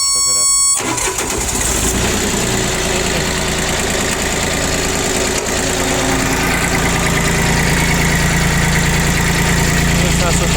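A Japanese Mitsubishi MT1401 tractor engine starts and then idles steadily with a smooth, even rumble that holds close and loud throughout, with someone talking over it.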